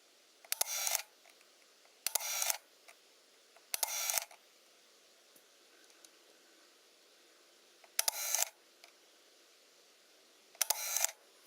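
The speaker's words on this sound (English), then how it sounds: "So when I press the shutter button, one can actually see, well, how it" Leica M9 camera shutter fired five times with its top cover removed, each press a brief close mechanical whir-and-snap burst separated by quiet pauses of one to four seconds.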